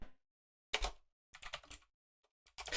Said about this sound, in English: click away on his fucking keyboard